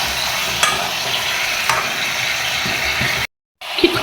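Turmeric and spices frying in a pan, a dense, continuous close sizzle with a few spoon scrapes and stirring clicks, a brief cut to silence near the end before sizzling resumes, without talk.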